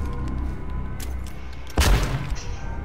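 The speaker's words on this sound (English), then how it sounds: "just throw that airstrike" An airstrike in the H1Z1 battle royale game lands with a loud, brief burst of explosive booms near the middle, over a steady background of game ambience and scattered gunfire.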